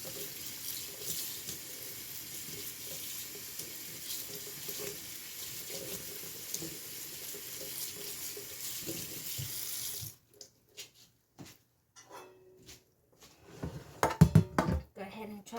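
Cold tap water runs steadily into a sink over cooked pasta for about ten seconds, then stops, leaving a few clanks and handling noises, one of them louder.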